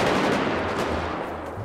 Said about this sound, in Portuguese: Ele tomou tiro.